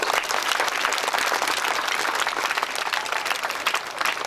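A church congregation at a priest's ordination anniversary gives steady, dense applause, many hands clapping together loudly and evenly, with no pause and no voices over it.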